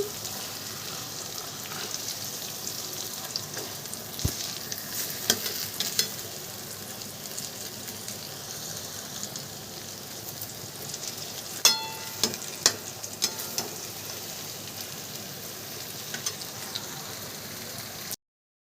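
Marathi-style fish curry simmering in a pan, a steady soft sizzle and bubbling with occasional clinks and scrapes of stirring, continuous and fairly close throughout.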